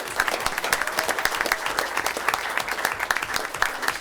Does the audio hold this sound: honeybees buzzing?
no